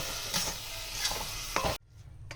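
Chana dal mohan bhog with milk is stirred in a pan, a few soft scraping strokes over a low bubbling hiss that cuts off abruptly near the end.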